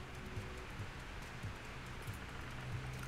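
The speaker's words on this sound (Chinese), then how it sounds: "下雨了。" Steady, faint rain falls in the Darwin Project video game, a soft continuous patter with a low background hum and no voices.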